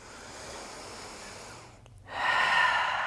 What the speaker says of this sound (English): taking another full breath, extending everything